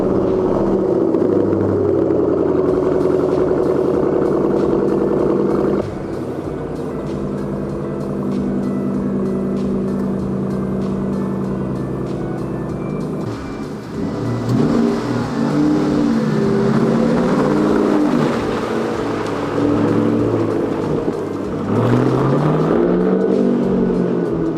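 A 2005–2009 Ford Mustang with a muffler delete idles with a deep, burbling rumble, then revs repeatedly into loud, rising growls that fall back between blips, close and continuous.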